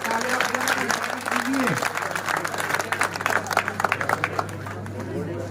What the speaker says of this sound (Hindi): एक बार जोरदार इसके लिए तालियां